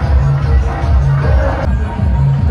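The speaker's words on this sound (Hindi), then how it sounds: "तो देखिए भाई भीड़ देखिए," A dense, steady crowd at a Ram Navami festival procession in Bihar, a continuous loud hubbub of many voices with low rumble throughout, no single speaker standing out.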